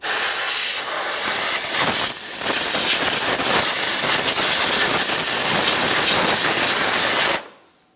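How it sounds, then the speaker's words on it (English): Compressed air hisses in one loud, steady blast for several seconds, cleaning the area around a transmission plug on a 2013-2015 Chevrolet Malibu, then cuts off abruptly. "use some compressed air and clean up the area"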